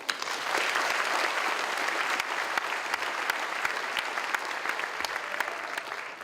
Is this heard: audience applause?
yes